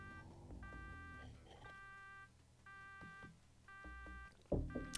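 A building alarm in the Shadowrun Genesis video game beeps in repeated electronic bursts of roughly half a second, steady and moderately loud, with a few soft knocks near the end.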